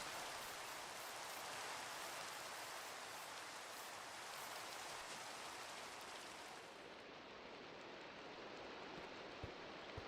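Steady rain in the Minecraft modpack GregTech New Horizons, a soft, even hiss of falling drops that continues without a break and grows slightly duller partway through.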